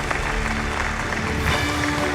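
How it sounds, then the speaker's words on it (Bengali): Applause from an audience at the TV9 Bangla Suswasthya Award ceremony, a steady dense wash of clapping from a large crowd at constant loudness, with no gaps. "একবার জোরে হাততালি হয়ে যা।"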